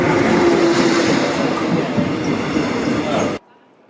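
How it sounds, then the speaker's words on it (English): Steady rumble of a train ride from Jochiwon to Seoul Station in Korea, a dense continuous rolling roar with a faint squeal early on, heard from inside the carriage until it cuts off abruptly near the end. "The train ride from Jochiwon to Seoul Station was about an hour and 20 minutes."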